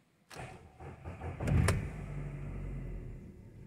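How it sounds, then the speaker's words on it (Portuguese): A car engine being started: a click and whirring motor, then a brief cranking burst that catches into a steady, close idle hum. "agora eu vou acionar o motor."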